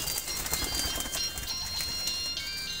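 Soft, low pigeon cooing close by, mixed with faint higher bird calls and a steady background hum.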